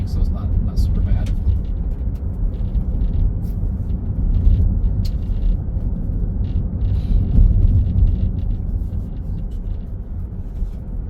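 Steady road rumble from inside a Tesla driving itself on Full Self-Driving, a constant low engine-free drone with faint tire noise and no pauses, close and moderately loud.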